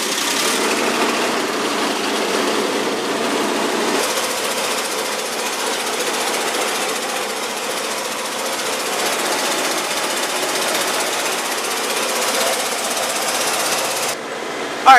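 A motor home's engine starts, then runs steadily with a loud, continuous rattling drone; the vehicle had broken down and has a new battery.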